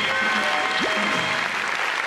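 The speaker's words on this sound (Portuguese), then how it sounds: "Aplausos para os Jetsons." Applause from an audience during a live radio-style DJ broadcast, a steady dense wash of clapping filling the whole short stretch, with music tones faintly underneath.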